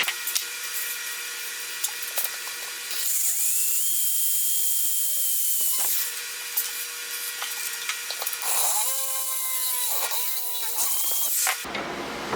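A drill bores a second hole into a metal GSX-R quad bike frame, whining steadily in several long bursts that stop and restart with pitch dips as the bit bites, close and fairly loud, with no talking.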